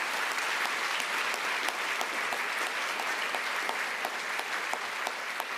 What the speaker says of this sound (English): Another round of applause for Ms. Dana Williams.